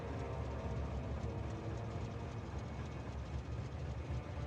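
A building train in the factory game Factorio rumbles along rails as it arrives, a steady low engine drone with faint rattling, continuous and moderately distant, with no talk.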